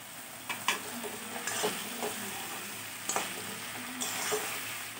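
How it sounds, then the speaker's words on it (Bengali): Pieces of katla fish go into hot fried spice paste in oil, producing a steady close sizzle with a few soft knocks and scrapes as they are placed and stirred. "এবারে আমি মাছগুলো দিয়ে দেব।"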